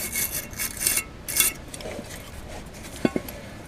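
A small wire brush scrubs the brake parts of a 2015-2018 Mitsubishi Outlander clean, with several rough rasping bursts close by, then quieter work and two sharp clinks of metal near the end.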